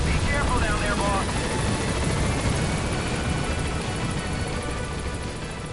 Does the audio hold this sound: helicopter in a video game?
yes